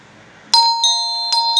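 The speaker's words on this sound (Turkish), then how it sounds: "Basayım bak zil çalışıyor." An electronic doorbell chimes twice, a clear two-tone ding-dong repeated, close and loud with no talking.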